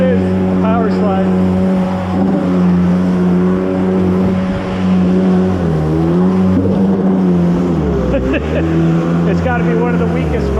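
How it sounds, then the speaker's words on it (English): A Yamaha WaveJammer stand-up personal watercraft runs on water with a weak motor, giving a steady, close, droning engine tone with shifting pitch as it revs and slides, continuous under wind and water noise. "It's got to be one of the weakest motors ever."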